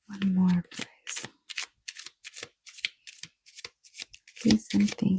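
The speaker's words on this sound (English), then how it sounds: "I'm trying to shuffle and nothing is popping out" A deck of tarot cards is shuffled by hand in quick, crisp riffling bursts with short pauses between them, close up, while a person talks over parts of it.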